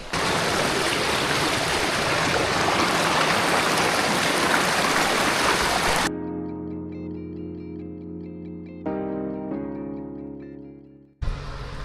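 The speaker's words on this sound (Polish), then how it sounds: "O, wodospad." A waterfall in the Belgian Ardennes roars as a loud, steady broadband rush for about six seconds, then cuts to quieter, tonal, music-like sound before the rushing water briefly returns at the end.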